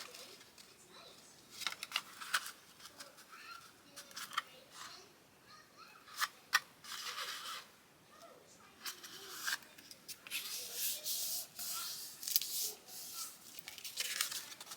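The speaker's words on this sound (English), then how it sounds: "the first thing we need to do after that is to fold our card base" Paper card stock folded into a card base, with soft crinkles, rustling handling and sharp creasing scrapes in uneven bursts, close and fairly quiet.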